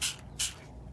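Coffee misted from a handheld spray bottle over a kitchen sink for junk journal crafting, two short sharp spritzes close by, the first at the start and the second a moment later.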